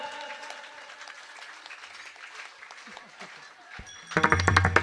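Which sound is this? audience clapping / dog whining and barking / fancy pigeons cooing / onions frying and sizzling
audience clapping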